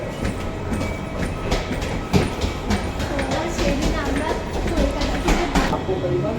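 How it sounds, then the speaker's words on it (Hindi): A train rumbles past at Bangalore airport, its steady low roar and rhythmic clickety-clack of wheels on rail joints continuing throughout, with airport ambience and a voice speaking over it. "देखिए उधर ट्रेन है।"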